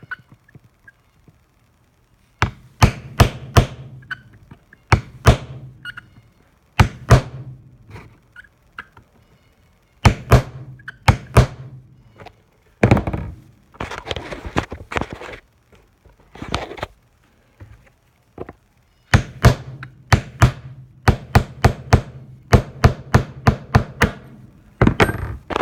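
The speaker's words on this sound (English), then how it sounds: "I'm going to take this little punch and a hammer, and I'm going to punch that check valve right out of that carburetor." A small punch is driven with a hammer to knock a check valve out of a two-stroke carburetor: many sharp, close metallic taps in quick bursts, separated by short pauses and quieter handling noises, over about twenty-five seconds.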